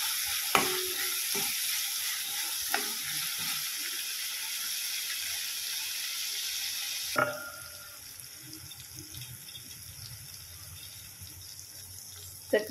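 Tomatoes fry in a pan for raw banana bhaji, with a loud, steady broadband sizzle and occasional spatula knocks, then the sizzle drops sharply to a softer, quieter hiss partway through.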